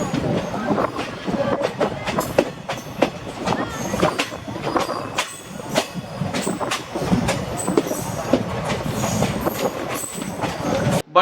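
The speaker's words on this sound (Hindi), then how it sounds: "हमारी ट्रेन को जो है यहाँ पर ग्रीन सिग्नल दिया गया और हम लोगों ने डिपार्चर लिया इस रेलवे स्टेशन से" Bihar Sampark Kranti passenger train pulling out of a small railway station, with rolling wheel clatter, rhythmic clicks over the rail joints and a steady rumble all the way through, heard from inside and close.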